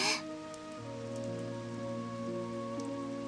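Steady rain falls in a visual novel video game, a soft continuous hiss layered over quiet sustained background music, with no talking.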